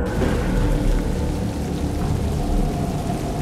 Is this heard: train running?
no